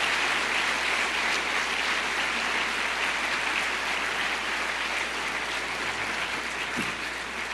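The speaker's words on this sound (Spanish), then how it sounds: "¿No le das un aplauso de alabanza?" A church congregation applauding in praise during a sermon, a steady wash of many hands clapping that stays loud throughout and tapers slightly at the end.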